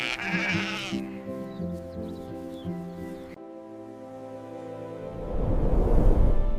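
Sheep grazing in a meadow give several bleats, overlapping wavering calls near the start, then a pause before a rustling, breezy outdoor wash rises.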